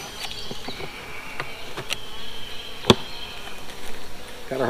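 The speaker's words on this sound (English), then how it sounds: "Oh, I got bees all around me too." Honeybees buzz close around a beekeeper working a brood box in a steady drone, with individual insects swelling as they pass, plus a few sharp clicks and taps.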